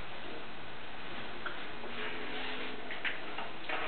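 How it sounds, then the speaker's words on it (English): A clock in the video game Whiplash ticks steadily, with a regular, even rhythm that runs alone throughout at moderate loudness. "And a clock. We're going to destroy a clock."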